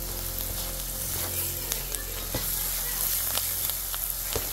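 Dal khichdi frying in ghee and oil as it is stirred: a steady, close sizzle runs throughout, with occasional light spoon taps against the pan.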